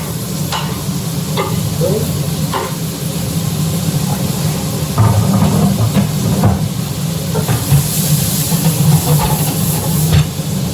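Onion frying in butter in a pan crackles and hisses loudly and steadily, with scattered pops and scraping and a brief word spoken over it.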